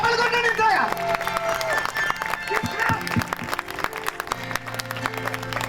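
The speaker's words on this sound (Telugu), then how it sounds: "గట్టిగా చప్పట్లు కొట్టండి ఇంతగా" Church congregation applauding loudly during a healing service, a dense wash of clapping and crowd noise with music and voices mixed in throughout.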